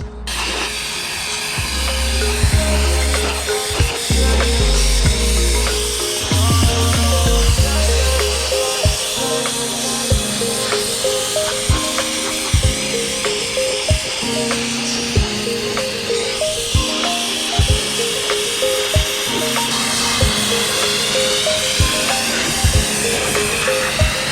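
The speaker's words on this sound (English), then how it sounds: "On the sandblaster itself, we've got a variable nozzle, so we can turn that in or out depending on how much sand you want onto the actual job." An ST55 sandblaster with a variable nozzle sprays sand onto a workpiece, making a loud, continuous hissing roar that lasts throughout, with irregular clatter and knocks mixed in.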